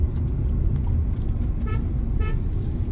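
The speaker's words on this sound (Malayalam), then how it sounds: "ഈ ഹോണും ആക്ച്വലി കുറച്ചും കൂടി ലൗഡറായിട്ടുള്ളൊരു ഹോൺ കൊടുക്കായിരുന്നു." Horn of a 2024 Hyundai i20 petrol manual car with a 1.2 L engine, heard as two short toots over loud engine and road rumble.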